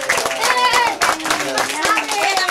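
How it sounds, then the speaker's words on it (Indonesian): Children at a fourth birthday party clap their hands in a quick, uneven burst close by, with excited young voices and adult chatter mixed in. "Anak-anak tepuk tangan lagi."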